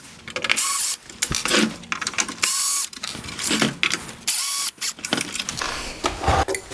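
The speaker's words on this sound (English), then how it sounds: "I'm going to go ahead and start removing all of the T15 torque screws around the edge of the light" A T15 Torx driver takes screws out around the edge of a 2017-2019 Mercedes-Benz E350/E400 multi-beam LED headlight in repeated bursts of close, whirring, ratcheting buzz, each separated by short pauses.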